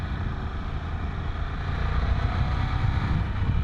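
A 2020 Ducati Scrambler 1100 Pro engine runs through its stock exhaust pipes, a steady low droning rumble mixed with wind rush while riding, swelling slightly toward the end.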